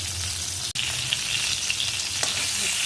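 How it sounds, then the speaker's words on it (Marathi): Eggplant sautés in a pan for a spiced stuffed eggplant dish, a loud, steady, close frying hiss with a brief stir-like scrape partway through and no voices. "थोडेसे वांगे परतून घ्यायचे"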